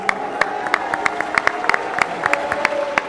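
A press-conference crowd claps unevenly for Dillon Danis, with sharp scattered claps over a murmuring room for a few seconds and faint voices mixed in.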